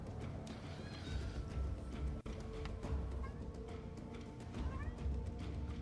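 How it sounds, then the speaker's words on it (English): A house cat meows a few times, faint and brief, within steady background noise while a gamer streams. "You just gonna meow at me?"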